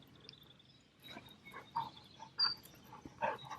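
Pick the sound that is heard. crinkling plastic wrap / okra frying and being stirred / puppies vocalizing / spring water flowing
puppies vocalizing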